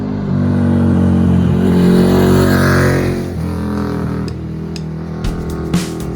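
A KTM 990 Super Duke R V-twin motorcycle engine pulls hard, its loud, close growl rising in pitch for a few seconds before easing to a lower drone, with brief clattering ticks near the end.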